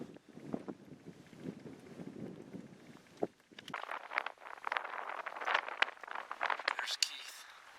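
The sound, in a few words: strong cold wind outdoors in Alaska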